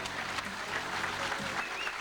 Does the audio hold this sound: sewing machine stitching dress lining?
no